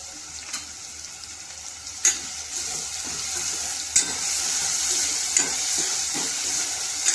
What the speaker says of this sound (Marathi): लसूण आणि टोमॅटो आपल्याला होऊ द्यायचा आहे।